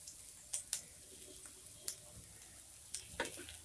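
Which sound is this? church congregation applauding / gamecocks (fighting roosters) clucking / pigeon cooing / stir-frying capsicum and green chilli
stir-frying capsicum and green chilli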